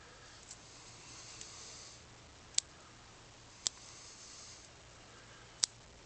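Pruning shears snip back branches of a premna bonsai in a training tray, three sharp, crisp clicks spaced about a second or two apart, close and distinct over a quiet background hiss.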